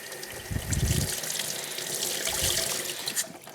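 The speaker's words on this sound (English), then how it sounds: "Squeeze out as much as you can. The more water you can squeeze out, the faster it's going to dry." Water squeezed by hand out of a washed foam air filter from a Yamaha YXZ1000R side-by-side, splashing and trickling into a sink in close, uneven bursts with no talking.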